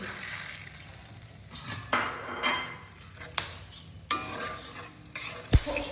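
Bay leaves, cardamom, cinnamon and cloves tempering in hot oil, a crackling sizzle punctuated by repeated spatula scrapes and clinks against the pot, ending in a sharp knock.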